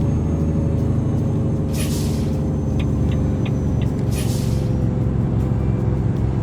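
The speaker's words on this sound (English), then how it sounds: "I use my Jake brake here to control my speed a little bit down this incline" A Volvo VNL 670 truck descending an incline in American Truck Simulator, its Jake brake holding a steady, loud, low diesel rumble throughout, with a couple of short hissy bursts and faint ticking over the engine drone.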